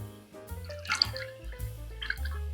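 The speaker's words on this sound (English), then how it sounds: "So it's slowly pouring out." Freshly extracted juice drips and trickles slowly out of a juicer, a few soft wet drops and a thin pouring stream, close and fairly quiet with a musical hum underneath.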